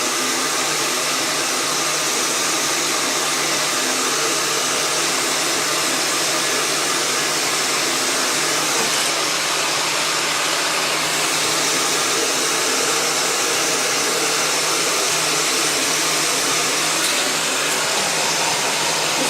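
A hot-air heat gun blows loud and steady, without a break, while warming a prosthesis inner liner made of a material that heats faster than the socket, the constant broadband rush filling the whole stretch.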